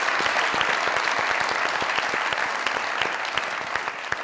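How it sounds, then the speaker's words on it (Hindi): A studio audience at a Pakistani comedy show breaks into loud, dense applause, continuous clapping filling the room at close range with no voices over it. "आप लोगों की जोरदार तालियों में everyone's favourite a superstar, Nadeem Abbas Lorewaala."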